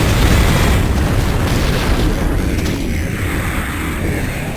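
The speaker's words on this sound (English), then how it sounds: "get some more pipe bombs. In fact, let's use some." Pipe bombs going off in Duke Nukem 3D: loud, booming blasts that roll into one another as a thick, continuous rumble lasting the whole stretch, with no voices.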